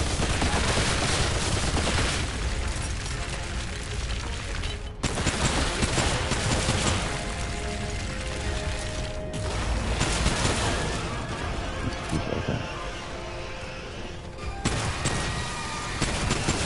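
Gunfire in the video game Remnant 2 rattles in dense, rapid bursts of loud shots, nearly nonstop with brief gaps, sometimes layered with booming impacts.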